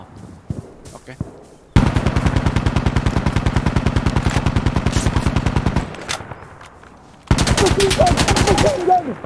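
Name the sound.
machine gun fire in video game Insurgency Sandstorm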